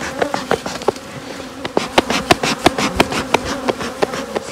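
Italian honey bees buzz around a hive in an apiary, a dense close drone punctuated by repeated sharp buzzing passes and taps that come in quick irregular bursts, with no voices.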